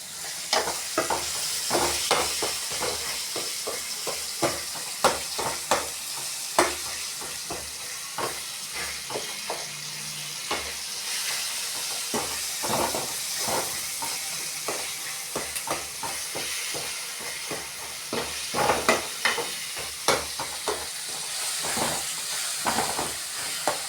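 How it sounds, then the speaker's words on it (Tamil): Tomatoes sauté in a pan for a fish curry, giving a continuous low sizzle and hiss dotted with frequent little pops and crackles across the whole stretch, moderately quiet and close, with no speech. "தக்காளியெல்லாம் வதங்குது."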